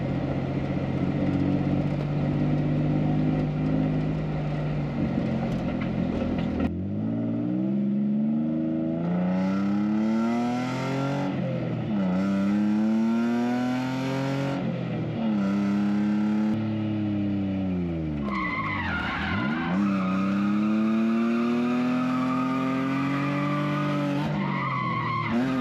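Drift car sliding through repeated skids, its engine rising and falling in long sweeping revs with squealing tires, loud and continuous throughout with no talk.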